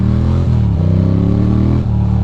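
A motorcycle engine revs loud and steady while the rider shifts gears, its pitch stepping down at each upshift and climbing again, with no talk over it.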